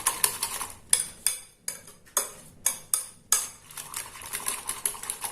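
Eggs for an omelette are beaten briskly in a bowl, a fast rhythmic metallic clatter of whisk against the sides in quick bursts, close and clear with no talking.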